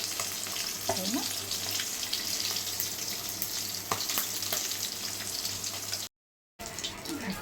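Fish sizzles and spits in hot oil in a home kitchen pan, a continuous close frying crackle with occasional stirring clatter, broken by a brief gap of silence near the end.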